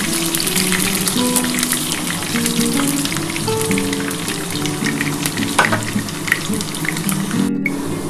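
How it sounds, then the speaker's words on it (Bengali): Potato pieces fry in oil for a Bengali vegetarian dhokar dalna, a loud close crackling sizzle with scattered pops and clinks of utensils throughout, no one speaking. "একটু লাল লাল করে আলুটা ভাজতে হবে।"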